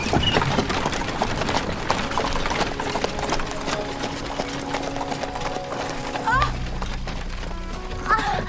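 Horse hooves clip-clop in a steady, close rhythm of sharp knocks over constant background noise, with a faint engine-like hum entering near the end.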